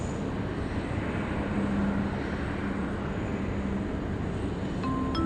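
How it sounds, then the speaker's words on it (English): A Qantas airliner on approach to land at Sydney Airport, arriving from Melbourne, gives a steady, broad engine roar that holds at an even level throughout, with no talk. "Next in to land here is Qantas 408 coming in from Melbourne."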